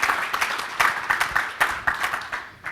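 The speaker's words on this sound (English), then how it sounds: "I think you guys should give him a round of applause" An audience at a public-sector talk gives a round of applause, a moderately loud burst of clapping with uneven rhythmic swells that thins slightly toward the end.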